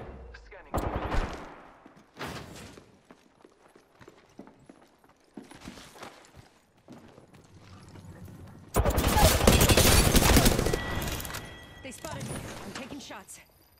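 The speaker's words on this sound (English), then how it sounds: "Shots fired at me." Gunfire crackles in the Apex Legends video game, with several short bursts in the opening seconds and then a loud, sustained volley toward the end, while game voice lines and talk run over and between the shots.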